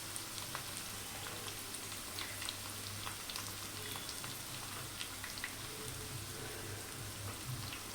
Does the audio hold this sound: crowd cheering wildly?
no